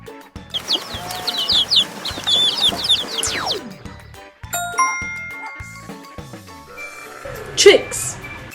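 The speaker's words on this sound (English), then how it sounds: "Many chicks." Chicks peeping and chickens clucking in a farmyard, with bright rapid chirps early on and a louder cluck near the end, laid over a gentle musical background.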